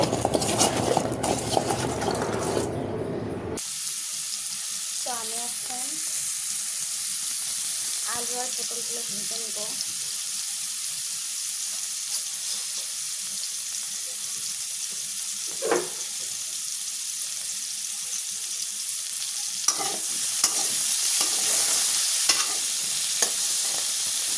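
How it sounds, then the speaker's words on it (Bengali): Pointed gourd and potato pieces coated in turmeric and salt frying in hot oil in a pan, a steady sizzle broken by scraping stirs and clinks of a spatula. "আমি পটল আর আলু হলুদ আর লবণ দিয়ে নিয়ে নিচ্ছি এগুলো আমি ভেজে নেব"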